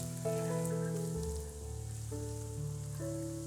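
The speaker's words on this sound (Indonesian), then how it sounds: "langsung digoreng di minyak yang udah panas" Breaded macaroni balls deep-fry in hot oil with a steady, rain-like sizzle and crackle, half-buried beneath loud, sustained background music.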